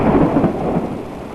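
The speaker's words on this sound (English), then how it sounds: "some pretty good thunder coming along with it" Heavy thunderstorm with loud rolling thunder over steady rain, a deep rumble swelling early and trailing off, with no voices.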